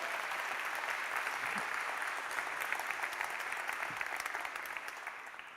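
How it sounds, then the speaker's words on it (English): Steady, even applause from a conference audience welcoming a speaker, a dense wash of many hands at moderate distance, fading slightly toward the end. "A giant round of applause,"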